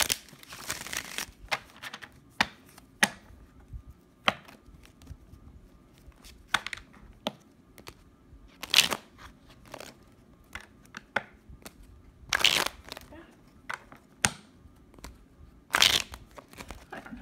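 Oracle cards are shuffled in short, crisp, papery riffles and flicks, scattered irregularly and quiet and close, with no talking.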